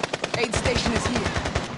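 Rapid automatic gunfire in the Warzone video game, a dense burst of sharp repeated shots rattling loudly and close, with game voice lines mixed in underneath.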